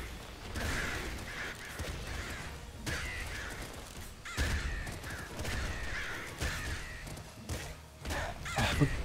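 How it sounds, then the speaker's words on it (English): Crow cawing in the game Nuclear Throne, repeated harsh caws recurring over a busy bed of gunfire, explosions and game effects, fairly loud and continuous. "There's a crow down here somewhere."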